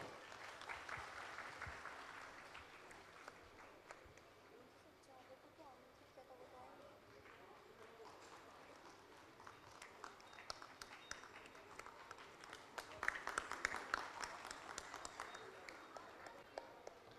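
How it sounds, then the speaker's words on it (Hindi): Audience applause welcoming an invited guest at a Hindi-language ceremony stage event, steady clapping throughout with a louder swell near the end, mixed with crowd murmur. "कृपया तालियों से इनका स्वागत कीजिए।"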